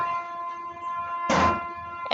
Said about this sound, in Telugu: అదిగో ట్రైన్ వస్తుంది కదా సౌండ్ వినపడుతుంది కదా